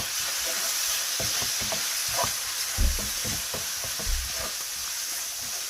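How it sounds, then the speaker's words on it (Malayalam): Meat roasting in a pan is stirred with tomato, soy and chili sauces, giving a steady bright sizzle with irregular scraping and stirring knocks and no talk. "ഇനി അതിലേക്ക് ഇച്ചിരി tomato sauce, Soy sauce, chilli sauce ഇതൊന്ന് മിക്സ് ചെയ്യാം."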